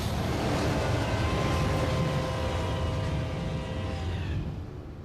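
A train rumbles past close by, a steady loud roar with metallic wheel squeal that fades slightly toward the end.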